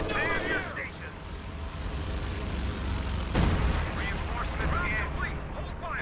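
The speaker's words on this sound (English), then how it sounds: "Priest firing blind, just hoping to catch some team weapons here." A Priest self-propelled artillery piece fires in a video game, producing a sharp, heavy blast midway through amid ongoing battle rumble and scattered game sounds, while a commentator talks throughout.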